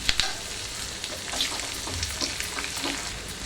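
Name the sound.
cashews and curry leaves frying in a pan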